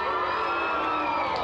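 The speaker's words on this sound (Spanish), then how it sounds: "¡Aplausos para el señor!" A crowd cheering and shouting loudly, a dense continuous roar of voices with whoops rising through it.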